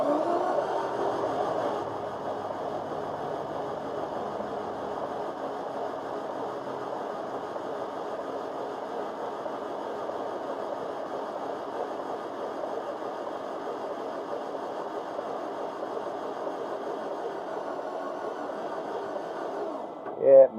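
A VW engine with low compression, running as a continuous mid-pitched mechanical hum and whir, steady and close for the full stretch, with a brief louder burst right at the end.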